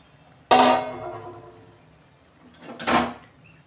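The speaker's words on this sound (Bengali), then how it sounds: "ঢাকনাটা আমি খুলছি" Metal pot lid lifted off a pot of pulao during cooking, two sharp clanking knocks about two and a half seconds apart, close and loud, each ringing briefly before fading.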